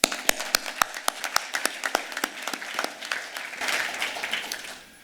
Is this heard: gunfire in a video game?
no